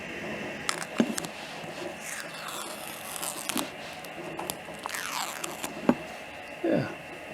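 Protective plastic coating being peeled off stainless steel muffler end caps in a workshop, heard as a few short crackling tears and rips with quiet gaps in between.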